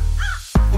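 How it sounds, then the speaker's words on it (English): A crow gives a single harsh caw that rises and falls, close by and fairly loud, with steady low background noise and a sharp burst of sound near the end. "One stupid crow thought he was slick."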